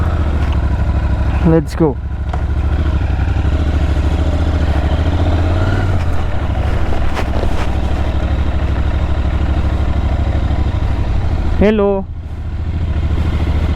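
A Royal Enfield Interceptor 650 motorcycle runs with a steady, loud engine rumble throughout, with brief rising revs near the start and again near the end as it pulls away, and a few short spoken words over it.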